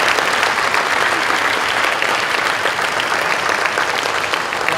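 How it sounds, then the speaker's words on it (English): Sustained applause from a large crowd at a high school senior awards night, dense and steady throughout with no pauses. "I just want to give one more round of applause to every single person that we mentioned."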